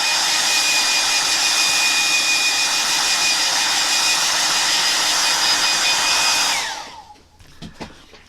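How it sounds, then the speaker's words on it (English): A hair dryer blows loud and steady at close range for about six and a half seconds, with a constant whine over broad airy rush, then switches off and winds down, leaving a few faint knocks. "I'm going to get my hairdryer out again."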